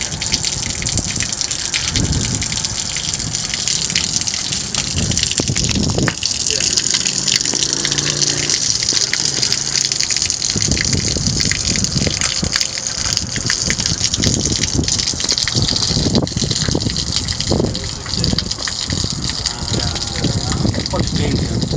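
Pressurized water sprays hard from a pipe during a pipeline safety training, a loud continuous gushing hiss lasting throughout, with voices talking beneath it.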